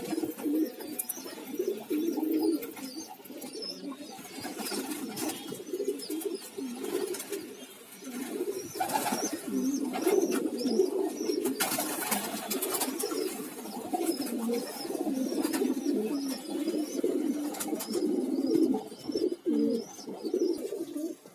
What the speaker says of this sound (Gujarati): તો બધા કબૂતર મિત્રો અંદર વૈયા છે